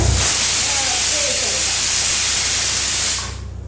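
A pressure cooker with powdered-rice payasam inside lets out a loud, continuous whistling hiss of steam for about three seconds, then cuts off sharply, leaving quieter background noise behind.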